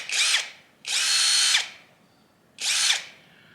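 A Seyvum PD-BL10 cordless brushless drill/driver with a bit fitted runs free in three short, close, high-pitched whirring bursts separated by brief pauses.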